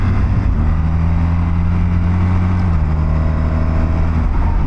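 A 2024 BMW R1300GS motorcycle being ridden, its engine droning steadily and loud throughout, with a pitch shift partway as a gear changes, under constant wind and road roar.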